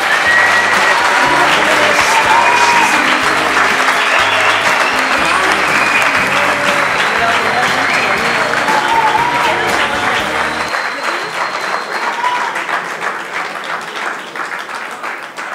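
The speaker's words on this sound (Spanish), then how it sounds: "Sé que la hemos despedido con un fuerte aplauso" A large audience at a university festival gala in Alcoy claps loudly and continuously after a speech, a dense wall of applause that fades gradually toward the end.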